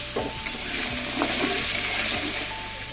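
Pumpkin pieces and stems with bay leaf, dried chilli and panch phoron frying in hot oil, a steady close sizzle broken by a few sharp stirring clinks.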